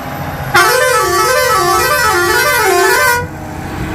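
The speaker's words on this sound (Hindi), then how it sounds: "ये देखो हमने बोला बजा बजा तो उसने बजाया हॉर्न" A loud truck horn blares close by for about three seconds, a wavering musical tone with a warbling melody over a rumbling engine.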